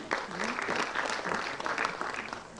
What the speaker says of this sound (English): Give a big round of applause for Shri Girish Ji.